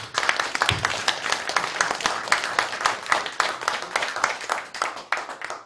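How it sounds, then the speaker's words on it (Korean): A seated audience at an anniversary ceremony of a Korean Buddhist organization claps loudly and steadily together, the sharp, dense hand claps close and continuous throughout. "박수 한번 쳐봅시다."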